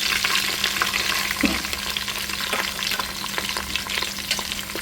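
Curry leaves and peanuts fry in hot oil while thin poha chivda is made, giving a steady, loud, close sizzle with scattered crackles and occasional stirring scrapes and no talking.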